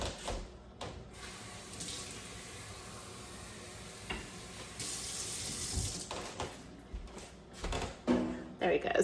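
Water pours from a tap into a roasting pan of vegetables, a steady splashing stream close by that swells and fades, with a person talking over it and clinks of the pan.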